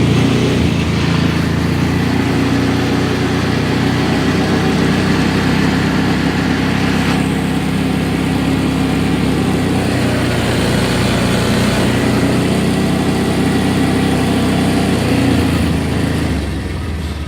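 A buggy engine drones steadily and loudly at close range as it drives down a gravel driveway, a continuous mid-pitched motor note with crunching underneath and no talk.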